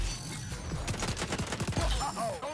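Rapid bursts of AK rifle fire in a Call of Duty match, a quick string of sharp close shots with a short pause before a final volley.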